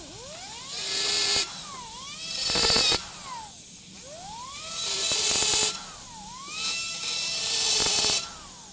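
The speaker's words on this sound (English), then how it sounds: "take my locator recess burr and just create a hole that's a little bit larger on the inside of those" A locator recess burr in a dental handpiece drills holes into the inside of a complete acrylic denture during a chairside soft reline after implant placement, whining in repeated rising and falling bursts with short pauses, close and fairly loud.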